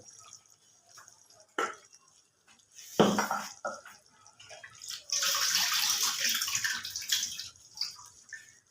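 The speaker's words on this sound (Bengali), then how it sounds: "দিয়ে দেবো একটু গরম জল" Hot water is poured into a whipped yogurt mixture while a spiced chicken dish is being made. A few clinks and splashes lead into a steady, close pour lasting about two seconds.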